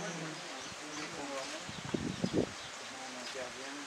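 Honeybees buzzing at a beehive, a steady close hum with a brief cluster of louder rustling or tapping midway; a voice speaks faintly underneath.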